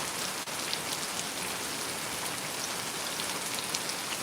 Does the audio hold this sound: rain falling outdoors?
yes